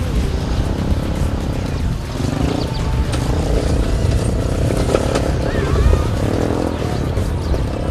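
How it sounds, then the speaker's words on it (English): A small engine on an off-road buggy drones steadily and loudly throughout, a rough continuous buzz with slight surges and no pauses. "you enjoy the power of the little engine and the things it can do"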